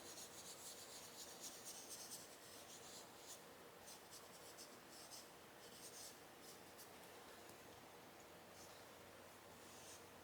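Colorless blender rubbed across pan pastel on paper, a steady close dry scraping and rubbing with repeated short strokes that continue throughout without speech.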